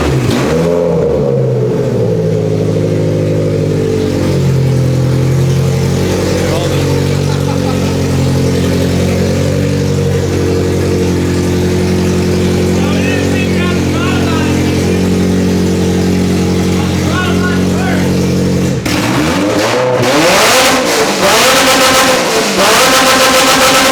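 A BMW E30 fitted with a Toyota Beams engine revs hard close by, climbing and falling through repeated throttle blips over a steady idle, then cutting to a rougher burst near the end.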